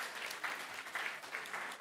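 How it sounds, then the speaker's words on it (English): A conference audience applauds a speaker with a brief, steady patter of clapping that sounds faint and somewhat distant. "So a round of applause for Dr."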